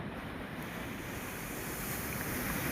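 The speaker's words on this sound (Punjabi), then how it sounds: "ਪਾਣੀ ਦਾ ਬਹਾਅ ਬਹੁਤ ਤੇਜ਼ ਵਾ" Fast-flowing flood water after monsoon rains roars as a dense, loud, continuous rush across a broken road, heavy and close with wind buffeting the microphone.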